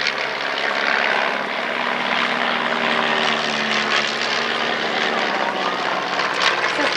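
Propeller aircraft fly a line-astern tail chase in an aerobatic display at the Midland Air Festival, a steady loud engine drone holding for several seconds with faint voices beneath.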